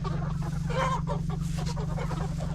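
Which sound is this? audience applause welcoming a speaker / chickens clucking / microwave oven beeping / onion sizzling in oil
chickens clucking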